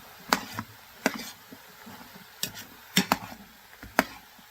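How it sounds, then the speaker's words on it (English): A utensil scrapes and knocks in an Instant Pot holding beef and onion stew, making about six sharp, irregular clacks over a low sizzle. "I'm going to keep on stirring this around here."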